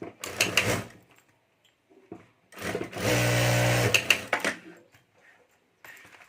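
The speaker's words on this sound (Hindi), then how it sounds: "यहाँ ऊपर हमें जिप के ऊपर सिलाई करनी है" A sewing machine stitches over a zipper on a clutch bag, running in one sustained burst of close mechanical whirring between shorter bursts of handling and fabric noise.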